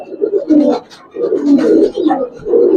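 Old-breed Giribaz pigeons coo close by in soft, throaty bursts that repeat several times with short pauses between them.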